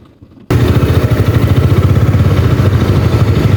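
A Rusi Sigma 250 motorcycle, a 2024 model, idles loud and close after a brief quiet start, its engine chugging in a steady low, pulsing rhythm throughout.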